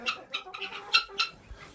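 Chickens cluck in short, bright bursts, several calls spaced irregularly and heard fairly close, with nothing else under them.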